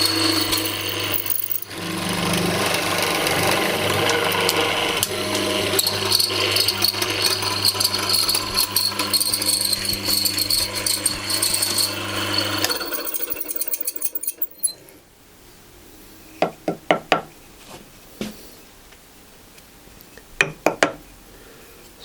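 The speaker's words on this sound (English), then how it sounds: "The chisel is on the edge of the workpiece, so let's see how this cuts." A chisel cutting into a wooden workpiece: a loud, continuous mechanical whirring and grinding for about thirteen seconds, then quieter with a handful of sharp, close taps spaced apart.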